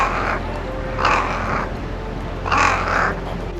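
Crows in Japan give three harsh caws spaced about a second apart, fairly close and clear over a quiet background.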